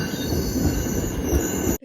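A train bound for Boston rolls with a loud, sustained metallic wheel squeal over a rumbling clatter, close up, ending abruptly.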